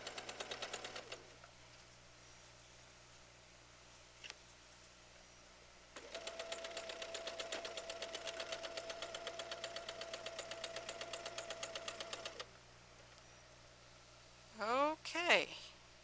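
A sewing machine stitching through thick, layered seams runs in a steady rapid chatter for several seconds, with brief bursts before and after and a short sharp noise near the end.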